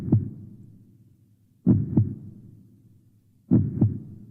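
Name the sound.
heartbeat sound effect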